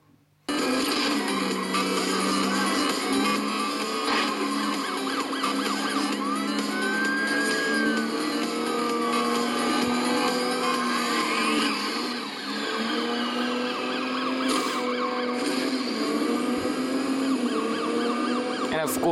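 Police sirens wailing steadily in Need for Speed Most Wanted on iOS, several overlapping sirens sustained over a constant engine drone throughout, with brief sweeping tones.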